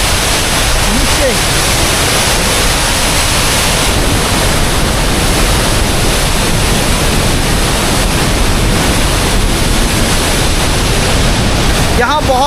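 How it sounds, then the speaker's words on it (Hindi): A waterfall near the village of Tosh roars loudly and steadily, very close, a constant broadband rush of falling water filling the whole stretch with no clear talk above it. "यहाँ सामने कुछ इस तरह का झरना बह रहा है और ये जाता है नीचे।"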